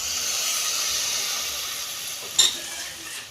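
Carrots that were fried first now cook in added milk for carrot halwa, giving a steady soft hiss and sizzle from the pan, with a brief louder scrape or stir near the end.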